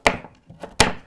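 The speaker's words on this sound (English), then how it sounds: "And then we're going to use a carrot, just one carrot. You're going to chop it into smaller pieces." A knife chops a single carrot into smaller pieces on a cutting board while making a smoothie, giving three sharp, separate chops spaced unevenly, loud and close, with no talking.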